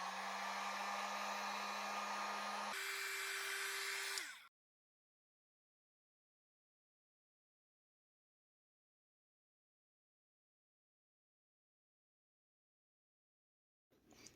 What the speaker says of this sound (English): Now I'm going to use a heat gun to heat it and get them to open up.